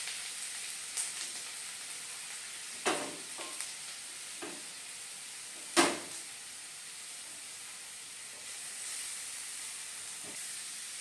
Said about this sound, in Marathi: तर व्यवस्थित आपल्याला तुपामध्ये गाजराचा किस हा परतून घ्यायचा.